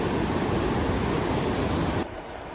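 Water rushes down the cascades of a salmon ladder on Vancouver Island as a loud, continuous roar that drops abruptly in level near the end.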